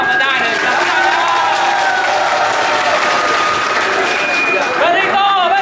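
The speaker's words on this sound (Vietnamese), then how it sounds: "xin cộng đoàn chúng ta cho một tràng pháo tay thật to và dài" A church congregation claps loudly in a long, sustained round of applause, a dense roar of hands with crowd voices and whistle-like cheers mixed in throughout.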